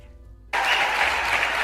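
Applause from an audience at a talk breaks out suddenly after a moment of quiet and holds steady as a dense, loud clatter of clapping.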